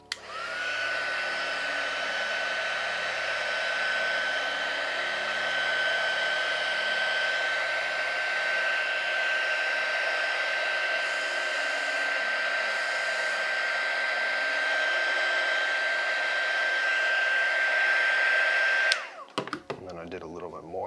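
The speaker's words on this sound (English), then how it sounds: "Hopefully the heat gun doesn't pick up too much on my mic, but watch what happens when you melt this." A heat gun blows steadily while melting beeswax onto a shoe sole, a loud, close, constant fan roar with a thin whine running through it, ending abruptly with a few handling knocks and clatter.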